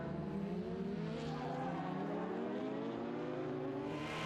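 Superbikes racing on the Cookstown 100 road course, Michael Dunlop among them, with a continuous high-revving engine roar and shifting pitch sweeps, loud and sustained without a voice.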